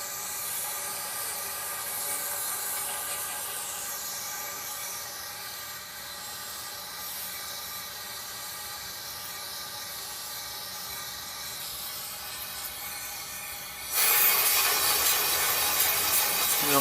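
A long, steady hiss of aerosol cleaner sprayed into the throttle body of a 2003 Cadillac CTS runs throughout, then jumps to a harsher, louder blast near the end; no one speaks.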